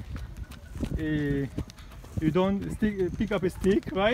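Hooves of a ridden horse clop along in a loose rhythm beneath a person speaking close by, partly masked by the voice.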